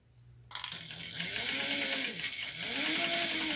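A sewing machine runs at close range, back stitching through the layers of a lanyard, starting abruptly and then whirring steadily with a rising and falling motor pitch.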